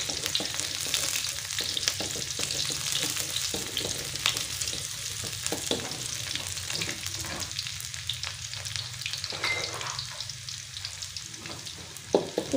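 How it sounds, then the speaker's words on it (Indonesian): Shallots and garlic sautéing in a little hot oil in a pan, giving a steady close sizzle with scattered spatula scrapes and stirring clicks throughout, no voices. "Lalu kita tumis bawang merah dan bawang putih."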